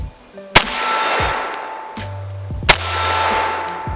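Two sharp gunshots ring out on an outdoor range, each followed by a bright metallic clang from a struck steel target, spaced about two seconds apart with a lingering ring between them.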